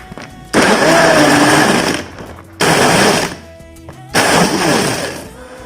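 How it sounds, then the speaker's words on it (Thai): A blender whirs loud and steady through three bursts, blitzing a strawberry detox smoothie with ice, the motor grinding hard for about two seconds at a time with brief pauses between runs. "เดี๋ยววิไปลงมือปั่นเลยค่ะ ปั่นส่วนผสมให้ละเอียดให้เข้ากันดีนะคะ"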